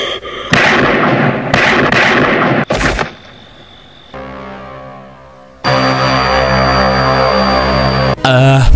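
A gun is emptied in a Halloween film scene, with loud gunshots cracking in a fast series up close. A sharp tonal drone and a sustained musical chord follow the shots.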